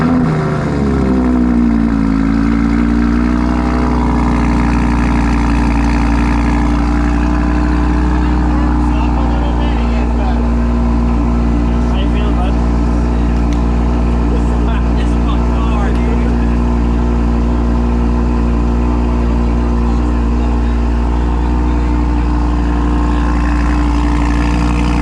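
A Volkswagen Jetta wagon engine starts and then settles into a steady, loud idle, heard close up for about 25 seconds with a constant low drone.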